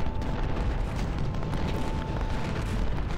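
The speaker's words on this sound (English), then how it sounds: "our artillery is just pounding away at the enemy" Artillery fire in the Ultimate General: Civil War game during a Gettysburg battle, a continuous dense rumble of distant cannon booms blending into a heavy roar.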